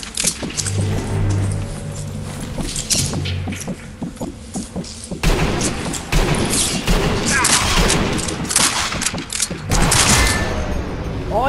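Gunfire in the Sniper Elite V2 multiplayer video game, sharp cracks and bursts scattered over a busy game soundscape of engine-like hum and effects, with players talking over the action.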